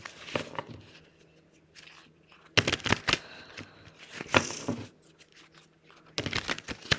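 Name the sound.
ruffle shuffle of a deck of cards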